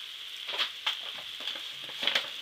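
Apples frying in hot butter and margarine in a pan, a soft steady sizzle with a few light spatters and stirring bumps, close and quiet, no talking.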